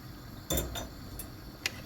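Metal spoon scraping and clinking against a pot while stirring Uzbek-style pilaf with tomato paste and hot water, a few sharp separate knocks over a quiet kitchen background, no talking.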